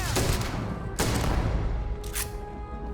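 Rapid bursts of game gunfire crackle over a dense rumbling background, with several sharp volleys across a few seconds.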